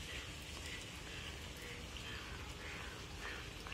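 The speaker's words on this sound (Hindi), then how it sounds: "अभी भी बारिश चल रही है" Steady rain falls over flooded farm fields in Basti, making a continuous dense patter that stays even and constant throughout, with no voices.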